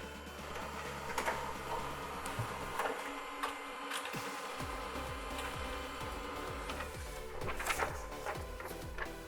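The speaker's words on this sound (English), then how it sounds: "And now I can hear printer is already trying to print." A printer on a Mac setup runs a test page, with repeated mechanical whirs, clicks and rhythmic feeding motor sweeps, fairly quiet and close, with no voices over it.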